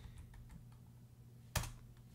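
Computer keyboard keys tapped quietly while code is entered, a few soft faint clicks followed by one sharper, louder keystroke, with no talking.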